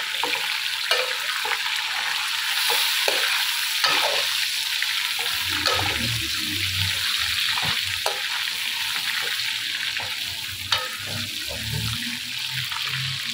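Half-boiled chicken frying in a pan, giving a steady, moderate sizzle with scattered stirring scrapes and wet clatter, close by and with no talk.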